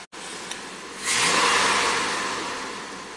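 A Ram truck engine, after repairs for stalling and low power, blips from a quiet idle into a sharp, loud rev, then the engine note slowly winds back down.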